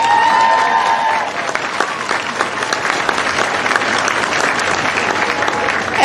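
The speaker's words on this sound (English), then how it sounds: "So a big round of applause for them." A crowd gathered after an All-Ireland junior club football final breaks into sustained, fairly loud applause, briefly starting under a fading voice and then carrying on alone.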